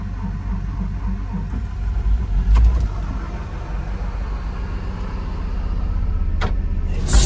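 A JLG 925 telehandler's engine cranks and rumbles in negative winter temperatures in Nebraska, a steady low mechanical drone with a louder surge partway through and a few sharp clicks, no voices.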